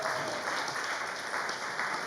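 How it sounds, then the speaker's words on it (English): Congregation applauding a visiting group at a synagogue service, a steady dense patter of many hands clapping throughout, fairly faint and uniform. "let's give them a round of applause"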